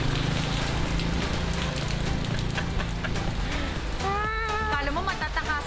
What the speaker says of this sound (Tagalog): Umuulan.